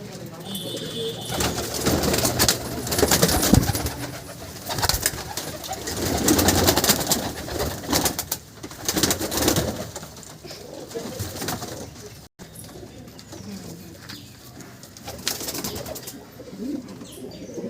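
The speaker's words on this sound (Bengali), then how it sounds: "এই হচ্ছে পায়রা দেখে নিন পায়রাগুলো চলুন আরও পায়রা দেখাচ্ছি আমি" Pigeons, a busy flock of high-flying breeds in moult, coo repeatedly close by, with rustling and a voice speaking over them.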